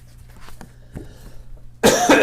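Quiet taps and rustles, then a single loud, harsh cough bursts out close up near the end.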